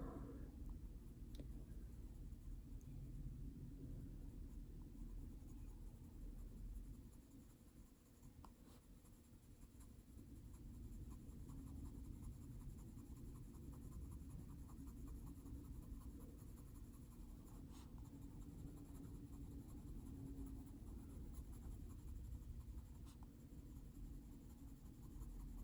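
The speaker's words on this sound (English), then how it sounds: "I find it's easier to hold the pencil back when you're doing the shading" Pencil shading on paper while drawing owls: a steady, soft scratchy rasp of graphite strokes continues for the whole stretch, quiet and close, with no talking.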